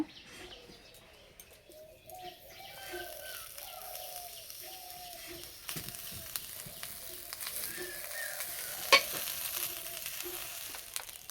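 Bottle gourd leaves coated in oil frying in a wok, a faint, steady sizzle with occasional stirring taps, while birds coo softly in the background.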